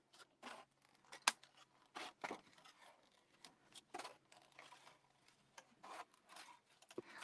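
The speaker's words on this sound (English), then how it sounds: "So again, cutting around, just leaving a little border." Scissors snip around a cut-out shape in a craft project, leaving a wiggly border; quiet, close, irregular cutting strokes with short pauses and one sharper snap.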